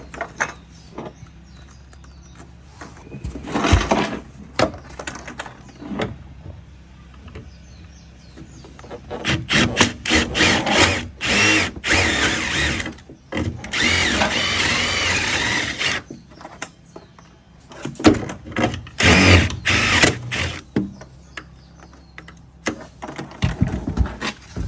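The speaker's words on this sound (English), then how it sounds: "get yourself one of these little Amazon special step bit" A power drill fitted with a step bit cuts through material during a truck tri-fold bed cover install, in several bursts of whirring and grinding separated by short pauses, loud and close.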